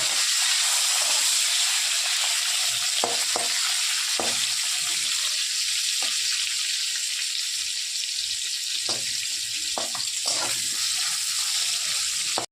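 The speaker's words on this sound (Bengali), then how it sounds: "এই দেখুন তেলটা গরম হয়ে গেছে, শুটকিগুলো দিয়ে দিচ্ছি। হালকা করে ভেজে নেব।" Salted dried fish frying in hot oil, a loud continuous sizzle and hiss with occasional knocks and scrapes from stirring.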